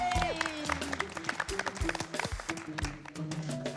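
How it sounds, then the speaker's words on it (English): Contestants and crew on a miniature-building competition show applaud after time is called. Scattered clapping rises and falls under music and overlapping chatter. "Give yourselves a round of applause."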